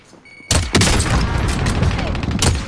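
A frag grenade explodes in a shooter video game, a sudden loud blast followed by rumbling debris and gunfire-like cracks, with the boom close and dominant.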